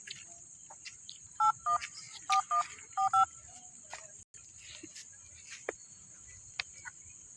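Touch-tone keypad beeps dial a phone number in three quick clusters of paired tones, over a steady background of chirping crickets.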